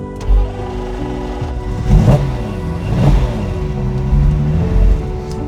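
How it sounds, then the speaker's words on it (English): A 1970 Lamborghini Miura P400 S with its 4-litre V12 turns over and catches, then gets several short blips of the throttle, each rev swelling and falling back to a steady idle, close and loud. "never get bored of listening to that sound. V12, 4 litre, perfection."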